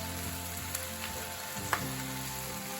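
Onion sizzling in a pot as the base for chicken stock, a steady soft frying hiss with a few faint clicks, moderately quiet and continuous.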